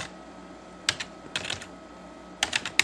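Keys tapped on a computer keyboard while entering a variable name in SPSS, three short clusters of quick, close clicks separated by brief pauses, with no talk.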